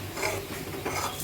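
Pulao rice being stirred with spices in a pan, a soft scraping and rasping of grains against metal in short strokes, close and steady, with no talking.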